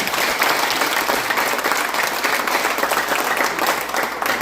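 Loud, sustained applause from a gathered audience at a rural community project review meeting, dense clapping filling the whole moment without letting up.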